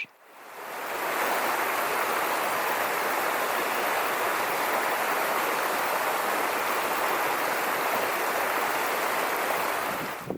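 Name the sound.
waterfall, tumbling water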